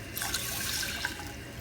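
Water poured from a cup into a pot on the stove, a short, quiet splashing trickle with light bubbling, close and continuous.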